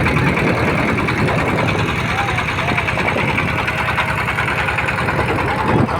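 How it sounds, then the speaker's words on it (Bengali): Loud, steady chugging drone of a shallow-engine boat motor running close by while crossing a wide wetland near a border fence, with someone speaking over the engine noise. "আমরা আছি একটা শ্যালো বোটে"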